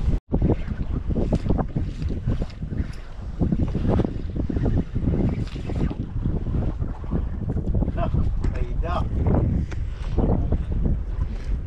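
A small fishing boat with engine trouble putters slowly at sea, its low engine drone mixed with heavy wind buffeting the microphone and splashing water, continuous and close.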